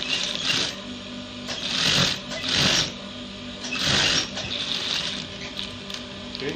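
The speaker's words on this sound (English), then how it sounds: "now top stitch from this point down, sew down" A sewing machine topstitching a trouser runs in a steady mechanical whir with periodic louder surges of needle clatter, close and continuous with no talk.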